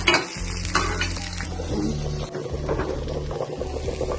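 Small onions temper in hot oil in a pan for a mutton leg soup, giving a steady loud sizzle with scraping stirring noises throughout and no talk.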